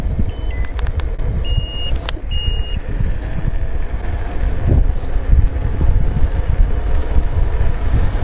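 Riding a Mankeel MK086 electric scooter in drive mode, a continuous rough wind-buffeted rumble from road and motion, with a few short electronic beeps near the start.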